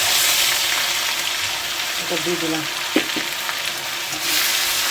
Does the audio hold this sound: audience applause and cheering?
no